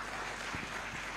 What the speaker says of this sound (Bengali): একটা জোরে হাততালি দেই।